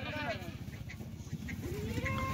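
Kathiawari goats bleat from a livestock truck, several wavering calls rising over a busy crowd, with people talking close by throughout.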